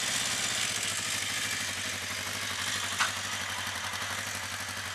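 A 1981 Honda CB650 Custom four-cylinder motorcycle with four carburetors idles steadily nearby, producing a smooth, even low hum with a faint mechanical clatter and one brief click.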